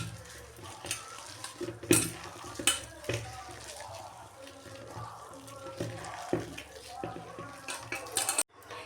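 Black gram vada batter is mixed with drumstick leaves in a bowl, giving soft wet squelches and scattered clinks of utensil on the dish, with some quiet background noise throughout.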